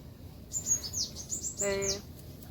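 Several high, thin sparrow chirps in quick bursts, with a louder, buzzier call near the end, fairly close over a quiet farm background.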